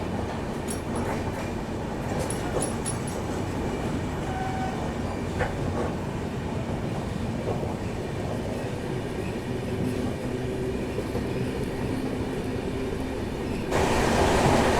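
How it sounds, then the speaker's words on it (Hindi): Kota–Tanakpur Nagdi Express rushing past on the opposite track, heard from inside a moving Garib Rath Express: a loud, continuous roar of wheels and rail clatter that holds steady and swells briefly near the end. "सामने से आ रही है train number 12036 कोटनगरी junction Nagdi express"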